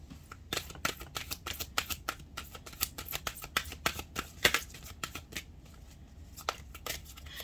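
Tarot cards are shuffled and handled up close, a run of crisp riffling snaps and soft slaps in an irregular rhythm with brief pauses between bursts.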